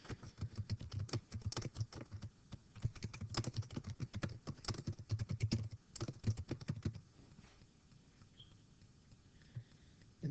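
Computer keyboard typing, rapid close keystrokes in bursts for about seven seconds, then trailing off into a quiet room with only a few stray taps.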